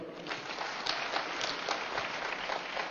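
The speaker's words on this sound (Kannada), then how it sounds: "ಜೋರಾಗಿ ಚಪ್ಪಾಳೆ" An audience at a spiritual talk claps to welcome a speaker. The clapping is steady and somewhat distant, a fairly soft, even wash of hands throughout with no speech over it.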